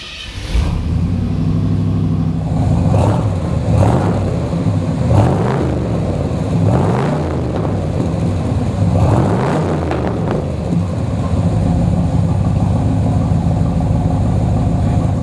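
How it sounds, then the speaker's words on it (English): A Corvette with side pipe exhaust fires up, then settles into a loud, throaty idle punctuated by several sharp blips and revs, heard up close for about fifteen seconds without speech. "with the side pipe exhaust, it sounds really, really good. How about I start it up for you so you can hear what it sounds like?"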